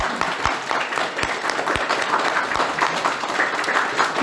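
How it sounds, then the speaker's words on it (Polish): Audience applause for a lecturer at the close of a talk, a dense steady patter of many hands clapping at close range, continuous throughout with no voices over it. "Wielkie brawa dla naszego prelegenta."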